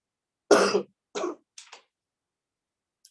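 Three short coughs in quick succession, the first loudest and the rest fading, followed by silence.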